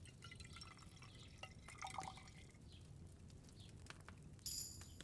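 Liquid poured from a phial during alchemy in Kingdom Come Deliverance 2, heard as soft, continuous trickling and dripping under low ambient game sound, faint and close, ending with a brief bright chime.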